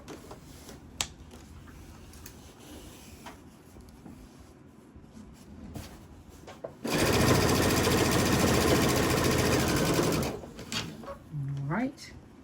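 A home sewing machine with a dual-feed walking foot stitches T-shirt quilt blocks in one steady, fairly loud run of about three seconds, with quiet handling of fabric and a brief voice before and after.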